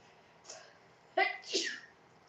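A single sneeze: a soft intake of breath, then a sharp burst and a trailing exhale, close and clear against a quiet room.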